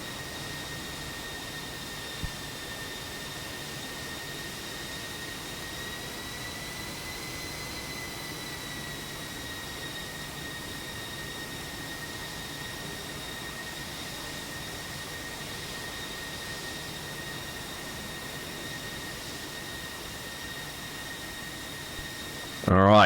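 Steady whining roar of a Su-27 jet's engines in the flight simulator DCS, a constant high-pitched tone over broadband rushing noise that holds evenly throughout with barely any change.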